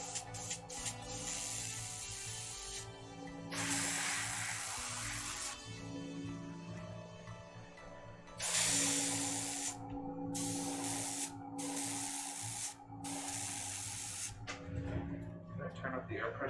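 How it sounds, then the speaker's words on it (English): A small air compressor maxing out around 19 PSI blows air through a spray nozzle in repeated bursts of hissing, several seconds each with short gaps, while a person talks quietly over it. "I need a higher PSI. My air compressor only goes up to 19 PSI."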